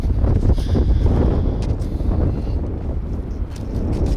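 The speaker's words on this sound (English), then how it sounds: "I wanted to get somewhat out of the wind in that field" Wind gusts across an open field and buffets the microphone in a loud, continuous rushing roar that swells and eases slightly over a few seconds.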